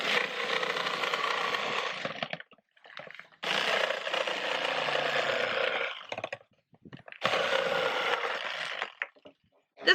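A cordless drill cuts into the top of a dried gourd in three long bursts, each running a few seconds with short pauses between them, loud and close.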